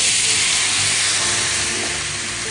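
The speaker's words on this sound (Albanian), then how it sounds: "ku do ta shuajmë me verë të bardhë" Chicken thigh deglazed with white wine in a hot pan, a loud, steady sizzling hiss of steam and frying that fades slightly as it continues, with no voices.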